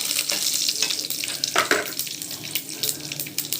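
Tempering for coconut chutney sizzles and crackles in hot oil with curry leaves, a soft, uneven frying hiss with stirring clinks, fairly faint and without talk.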